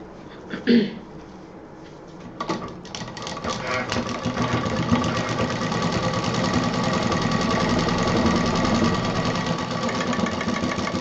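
A sewing machine runs steadily, double-stitching a fabric pocket with piping on a handmade bag, its mechanical whir continuous after a few brief knocks at the start.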